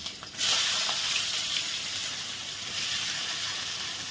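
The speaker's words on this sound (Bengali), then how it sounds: "একই তেলে আমি এখন পেঁয়াজগুলো দিয়ে দেবো দিয়ে দিলাম গোটা রসুন আর দিয়ে দেবো পেঁয়াজ" Onions and whole garlic cloves drop into hot oil and set off a steady sizzling hiss that continues evenly for several seconds. No voices are heard.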